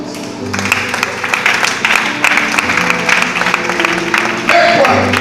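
A church congregation applauds and cheers at a morning service, a steady dense wash of clapping with crowd voices and music underneath throughout.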